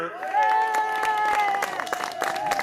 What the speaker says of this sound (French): Une ovation pour monsieur Aaron Cohen